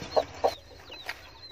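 A Fayoumi hen gives two short, soft clucks close by, followed by a fainter third cluck over a quiet background.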